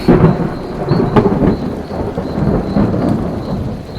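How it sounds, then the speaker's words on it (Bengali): A heavy thunderstorm with loud, close rolling thunder over steady rain, sustained throughout with no voices. "আচমকা কানের পর্দা ফাটিয়ে মেঘ ডাকলো। কাছেই কোথাও একটা বাজ পড়ল।"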